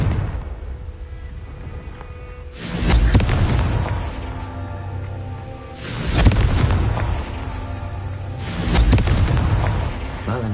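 Three heavy booming blasts from a Confringo fire spell in the Hogwarts Legacy video game, evenly spaced a few seconds apart, each a loud deep burst that decays into a rumbling tail.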